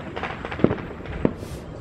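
Backyard Fourth of July fireworks go off in two sharp, distinct bangs about half a second apart, close and fairly loud over low background chatter, followed by a short fizzing hiss.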